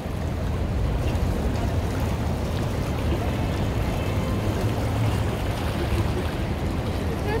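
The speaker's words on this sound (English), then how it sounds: "Beautiful sounds of the river" A river flows through downtown Chicago in a dense, continuous wash of rushing water that holds steady at moderate loudness throughout.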